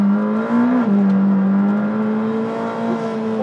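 McLaren Senna supercar engine droning steadily while driving, a strong sustained tone with a brief pitch dip near the start before holding a constant, loud cabin-level roar throughout.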